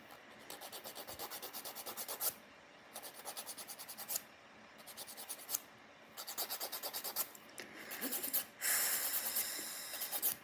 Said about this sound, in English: doing my nails the old-fashioned way with a nail file is so frustrating